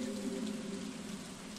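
Steady rain from the video game Stardew Valley, a soft continuous hiss that stays even throughout, with a low voice-like band murmuring underneath.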